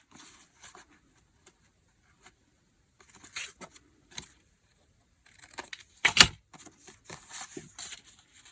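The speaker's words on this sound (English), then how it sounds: "Just cut it into a tag shape." Scissors snipping paper scraps into a gift-tag shape for a craft project, sparse close clicks and short cuts separated by quiet pauses, with one louder snip partway through.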